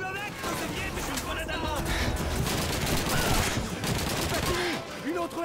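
Dense gunfire from a Stalingrad battle in Call of Duty 2, loud and continuous with overlapping rifle and machine-gun bursts, while someone talks over the shooting.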